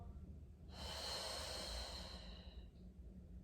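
Deep breathing during a postnatal pilates exercise, one long, soft, airy exhalation up close, quiet and alone.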